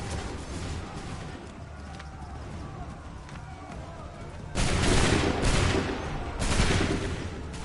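Soldiers fire a musket volley in Assassin's Creed 3 amid a battlefield din: a rumbling background that erupts into two loud, dense crackling bursts of gunfire, with shouted voices mixed in.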